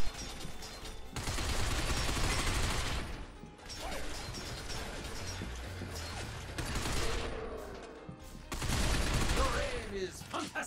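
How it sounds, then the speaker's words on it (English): Bursts of rapid gunfire tear robots apart in the video game Binary Domain, with metallic crashes and clanking, loud and chaotic, broken by short pauses between volleys. "seeing the robots get torn to pieces from your gunfire"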